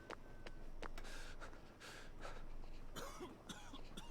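A character in the game We Happy Few coughs repeatedly after walking through toxic gas, harsh close hacking bursts mixed with gasps and throat clearing, with no talk.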